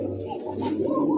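Pigeons cooing at a pigeon market, a pair of pink-beaked birds among them, with low rolling coos repeating close by over a steady background hum.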